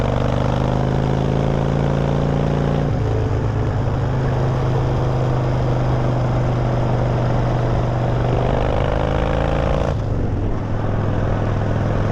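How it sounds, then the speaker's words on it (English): Harley motorcycle engine pulling hard in third gear at around 50 mph over a corrugated dirt road, a loud continuous drone with steady harmonics that shift in pitch as the rider changes throttle, no voices. "Oh, I made this bike work hard, don't you worry about that."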